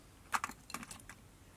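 Senyo's Shaggy dub fibres snipped short for fly tying, a few quick, faint scissor clicks in a brief close cluster.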